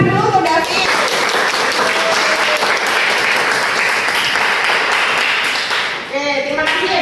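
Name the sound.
classroom applause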